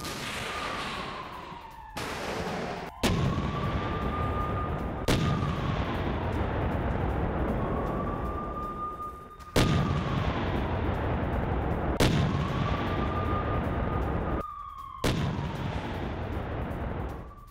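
Artillery rockets fire during a Russian attack in Luhansk. Loud, repeated booming launches arrive every few seconds, with whistling tones sweeping across a constant heavy roar and no voices.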